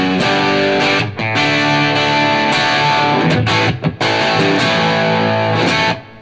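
Chunky electric guitar tone through a Zen Drive clone overdrive pedal on a pedalboard, thick distorted chords and palm-muted riffs played close and loud with a couple of short breaks, no voices.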